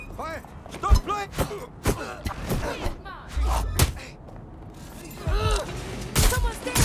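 Gunfire rings out during a Watch Dogs Legion mission in bursts of sharp shots and thuds, heavily mixed with in-game voices shouting.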